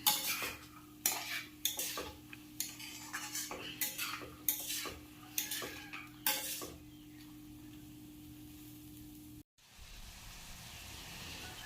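Chana (black chickpeas) stirred as they fry in a pan, with a steady sizzle under repeated scraping and clinking of a utensil against the metal for about seven seconds, then a brief cut and a quieter, even frying hiss.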